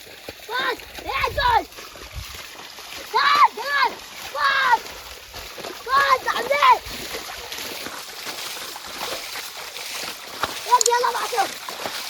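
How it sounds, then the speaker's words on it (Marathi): Water splashing in bursts as a pool in a stream is bailed out to catch fish, rhythmic scoops and splashes close by, with people talking between and over them. "पाणी कमी होत आला आहे, थोडासा उपसा फक्त."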